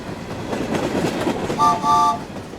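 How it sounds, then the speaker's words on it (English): A steam train rumbles steadily along the track with a rhythmic chugging and puffing, then a two-tone whistle sounds briefly near the end. "Thomas puffed through the countryside and passed the big train going the other way."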